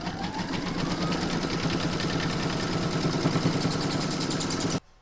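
An embroidery machine stitches an in-the-hoop witch boot design in a fast, even mechanical chatter of needle strokes, close and steady, then cuts off abruptly near the end.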